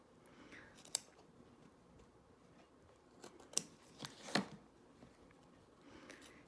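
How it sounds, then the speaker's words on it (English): Sharp scissors snipping embroidery fabric right along a single stitch, a few quiet distinct cuts spaced apart, close and faint with no talking. "we are going to carefully cut right on top of that single stitch"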